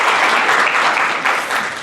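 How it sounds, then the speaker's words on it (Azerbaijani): Audience applause fills an auditorium during a live podcast event on public speaking: a dense, steady, close clapping that holds at full strength for about two seconds with no voices over it. "alqışlayaq"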